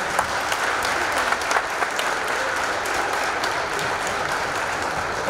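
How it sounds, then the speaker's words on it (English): An audience at an NJROTC annual military inspection gives the parents sustained, dense applause, loud and close throughout with many hands clapping together. "Round of applause all the parents who've been here"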